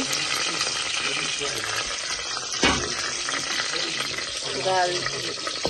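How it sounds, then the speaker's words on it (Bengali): Bay leaves and cinnamon frying in hot oil in a home kitchen, a close continuous sizzle and crackle with a brief louder burst midway and some faint clattering in the background. "তেজপাতা দিলাম দারচিনি"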